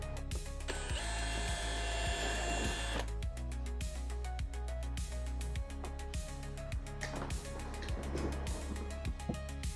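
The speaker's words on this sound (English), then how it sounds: "continue to drill the pilot hole from the other side here on the back side." A power drill whirs steadily as it drills a pilot hole from the back side of a 2019-2024 Chevrolet Camaro for a rear tow hook, its motor pitch shifting as it bites and bursts of grinding rise and fall, close and continuous.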